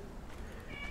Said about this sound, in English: if you hear some meowing in the background, sorry for that. It's my cat.